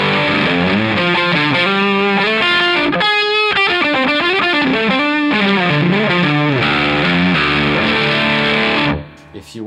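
Electric guitar through a Catalinbread Dirty Little Secret Deluxe Marshall-in-a-box pedal on its higher-gain super lead side, playing loud, continuous distorted chords and riffs for most of the clip before cutting off abruptly near the end.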